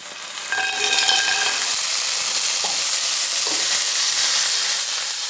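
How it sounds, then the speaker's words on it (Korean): Clams dropped into hot oil with pepperoncino for vongole pasta, giving a loud, continuous close-up sizzle and hiss with faint scraping underneath. "향이 올라오기 시작했다면 바지락을 넣고"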